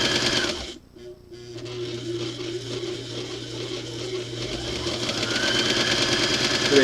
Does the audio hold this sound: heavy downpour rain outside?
no